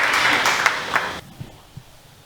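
A church audience applauds during a testimony, a burst of crowd clapping that cuts off abruptly after about a second, leaving a few faint stray claps in a quieter room.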